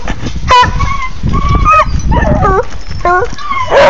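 A dog on a rabbit hunt howls and whimpers in rising, wavering cries, loud and close, with several drawn-out yowls over a few seconds and background noise beneath.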